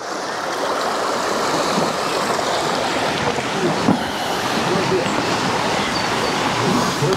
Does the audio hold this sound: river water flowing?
yes